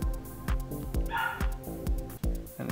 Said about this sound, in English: And the dog's going mental again in the background.